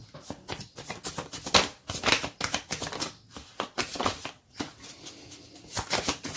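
Tarot cards being shuffled and dealt, a dense run of quick papery riffles and flicks with short pauses, fairly close and steady, with no voices.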